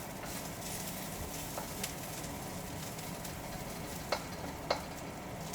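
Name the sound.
onions sautéing in a pan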